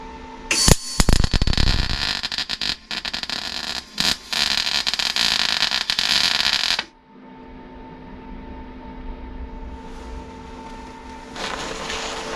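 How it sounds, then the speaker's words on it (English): Welding an inner wing repair panel on a Rover P6, a loud, crackling, spitting arc burst with short gaps for about six seconds, then a quieter steady hum of the workshop. "Let's see if we can do a good weld."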